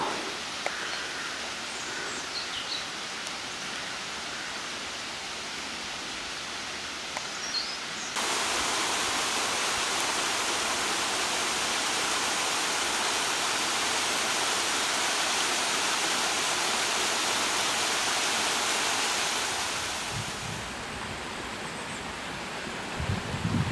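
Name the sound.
small waterfall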